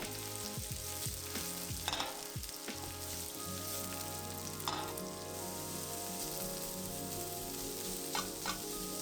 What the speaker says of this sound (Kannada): ಇವಾಗ ಇದಕ್ಕೆ ಈರುಳ್ಳಿ ಹಾಕ್ಕೊಂಡು ಫ್ರೈ ಮಾಡ್ಕೊಳ್ಳೋಣ.